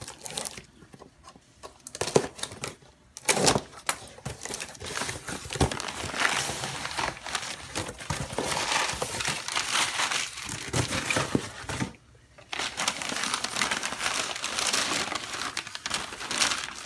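Crinkly plastic and paper packaging from an eBay parcel being torn open and handled up close, a busy run of rustling and crumpling with a few short pauses and no talk.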